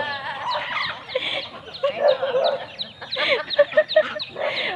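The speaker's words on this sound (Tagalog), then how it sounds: "Dami nilang manok." Several chickens cluck close by in uneven bursts, overlapping calls rising and falling, with no talking.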